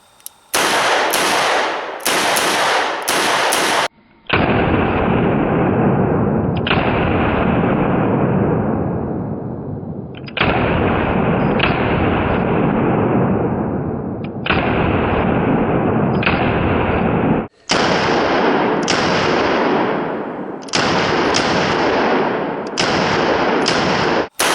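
An S&W 686 .357 revolver fires jacketed hollow points in loud, sharp, closely recorded shots, first a quick cluster of three, then single spaced blasts with long decaying echoes, ending in another rapid group.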